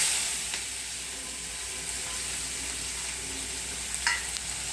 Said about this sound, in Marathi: थोडासा परतून घ्यायचा कांदा